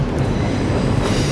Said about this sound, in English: And got here just in time to catch a train.